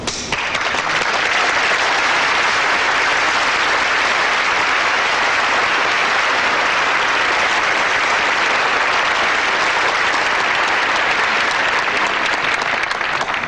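Sustained, loud applause from a large television studio audience at a 1977 all-star tribute to Elizabeth Taylor, dense and steady from start to finish with no voices breaking through.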